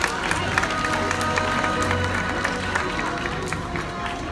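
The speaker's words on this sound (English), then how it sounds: "I'll get a round of applause for Iris and Olympus." Audience applause at a live animal actors show at a Hollywood theme park, with a steady spread of clapping and a few distinct claps, crowd noise and voices mixed in.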